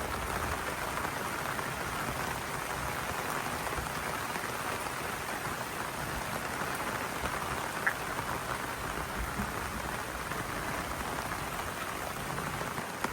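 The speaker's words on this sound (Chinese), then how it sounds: "现在下雨了" Heavy rain pours down on a rural cabin and yard in the deep mountains during a storm, a steady, dense hiss of drops on surfaces that stays even and unbroken throughout, with no voices.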